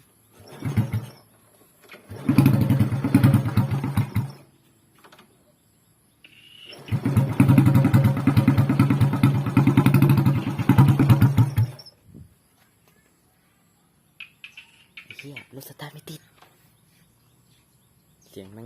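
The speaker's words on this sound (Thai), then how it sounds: "เราก็จะมา ฟังเสียงกันเลยนะผม โอเคไป สตาร์ทแป๊บ สตาร์ทแป๊บหนึ่ง" Motorcycle fitted with a loud homemade straight-pipe exhaust built from a stainless filter, roaring in two long throttle bursts with a quiet idle between them, then shutting off into faint background sounds.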